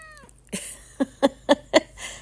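A young female house cat gives a drawn-out meow, then a quick series of four short, clear meows close by, spaced evenly about a quarter second apart.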